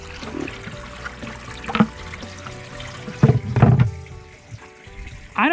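Spring water running into a farm storage tank, a steady trickling stream with louder gushing surges, close by with no talking.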